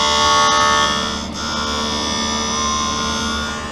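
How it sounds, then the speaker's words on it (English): A polycarbonate Essilor lens grinds against the cutting wheel of a lens edger, producing a steady, loud mechanical whine with dense harmonic hum that continues without pause, with no speech. "that sound is your lens grinding against the cutting wheel"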